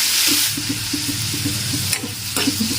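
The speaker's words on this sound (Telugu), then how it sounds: "కొంచెం పసుపు వేసి బాగా కలుపుకొని" Capsicum and tomato fry with turmeric and curry leaves being stirred in a pan: a soft background sizzle under a run of rhythmic scraping and clinking strokes of the spoon, close and moderately quiet.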